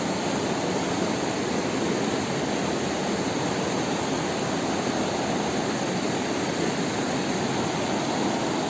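Water rushing from a tunnel into a dam in Kerala, a constant loud roar of broad noise that holds unchanged from start to finish.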